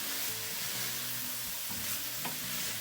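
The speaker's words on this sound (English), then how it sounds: "After stirring a few more minutes, we let the vegetable to cook down" Green peppers and other vegetables cook down in a pot for turkey chili, with a soft, low sizzle and occasional stirring scrapes, fairly faint, over a faint tonal background hum.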